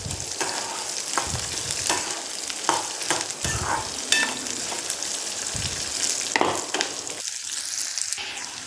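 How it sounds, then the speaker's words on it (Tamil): Small onions and red chillies sautéing in a pan for a ridge gourd chutney, a continuous close sizzle punctuated by repeated scraping strokes of a spatula against the pan throughout. "வெங்காயத்தை போட்டு நல்லா வணக்கிடலாங்க."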